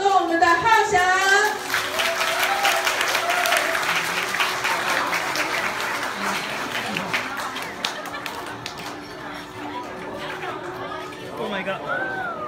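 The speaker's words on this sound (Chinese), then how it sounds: "掌声" Audience at a live show bursts into loud applause and cheering, dense clapping that gradually thins out, with a host talking over it and crowd chatter continuing as the clapping fades.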